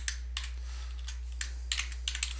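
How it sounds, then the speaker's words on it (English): Quiet keystrokes on a computer keyboard come in short irregular bursts of clicks over a steady low electrical hum, close by, with no talking. "You can type it the way I'm typing it"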